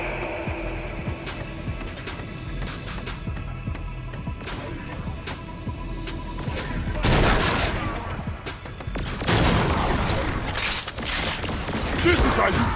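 Gunfire in the Agent of Mayhem video game, with scattered mechanical clicks and thuds giving way to loud, dense volleys of shots in the second half, mixed with voices and game sound.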